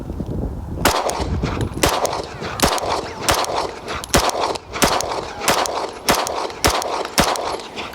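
Rifle rounds fired at steel targets 40 to 50 yards away crack out one after another at an even pace, about a dozen sharp, loud shots in eight seconds, each with a brief ringing tail.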